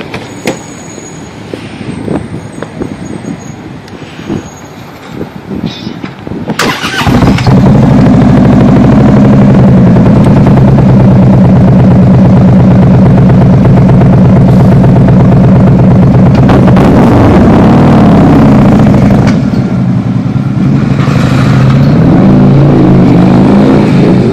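A vehicle engine fires up loudly after a quiet start and holds a deep, sustained roar through CFR exhaust pipes for a long stretch.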